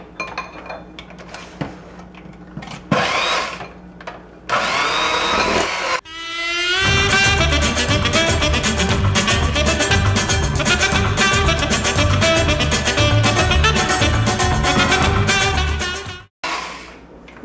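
An electric hand mixer beats chocolate chip cookie dough in a bowl. After a few clinks it starts up and runs as a loud, steady whirring drone with rattling beaters, then cuts off near the end.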